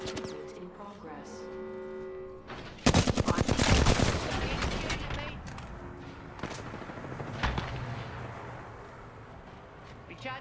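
Gunfire in a video game, heard as a dense burst of rapid automatic shots followed by scattered single shots and impacts. The shooting is loud and close, with game sounds in the background.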